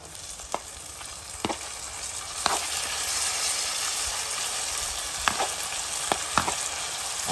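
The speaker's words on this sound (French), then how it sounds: "Je mets un peu de tomate et je laisse cuire." Tomatoes cooking in a pan for rougail saucisson, a steady broad sizzle and hiss throughout, with a few scattered soft utensil taps and clicks.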